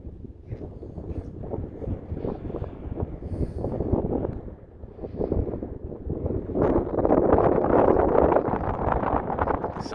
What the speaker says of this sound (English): So bloody windy.